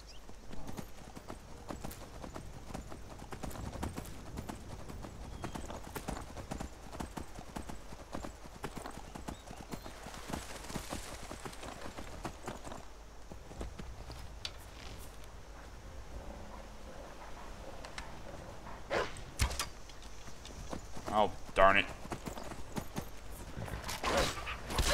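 Horse hooves clip-clop in a steady rhythm under a faint background wash, with a few sharper clatters near the end, in the video game Skyrim.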